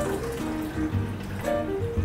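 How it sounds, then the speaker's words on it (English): Citric acid descaling solution pours steadily into the water tank of a Gevi drip coffee maker, making a close, continuous trickling and filling sound with small gurgles and no voices. "Pour the cleaning solution into the water tank up to the max line."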